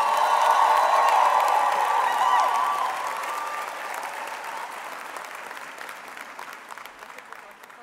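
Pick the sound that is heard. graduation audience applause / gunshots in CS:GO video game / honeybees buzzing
graduation audience applause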